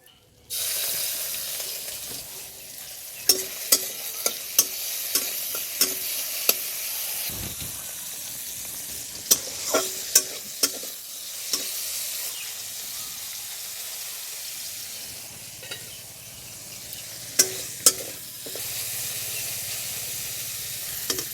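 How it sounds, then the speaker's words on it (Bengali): Continuous loud sizzling of prawns frying in hot oil in a wok, punctuated by sharp spatters and occasional metal scrapes, close up with no talking. "এখন আমি চিংড়ি মাছটা ভেজে নেব এবং একটু হালকা করে ভেজে নেব"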